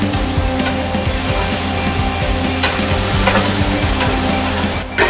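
Diced onions with red and green bell peppers and Serrano chili garlic sauce sizzle loudly while being stirred, steady frying hiss under a low constant hum, with occasional scraping strokes of a utensil close up.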